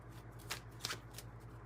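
Tarot cards being shuffled by hand in a few quick riffling bursts, quiet and close, over a faint steady hum.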